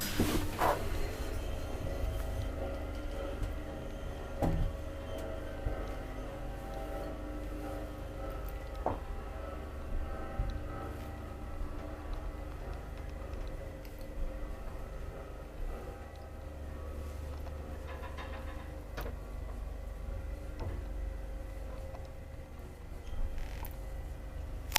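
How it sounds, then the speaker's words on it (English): A 1966 Hissinhuolto traction elevator in Kotka travels between floors with a low steady mechanical rumble, faint creaks and occasional clunks and rattles from the car and machinery, no talking. "So also one of the best elevators here in Kotka."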